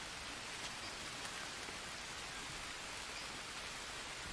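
Steady rain pours over jungle terrain in the survival game Green Hell, a dense, even hiss of drops that holds constant and moderately loud throughout with no voices.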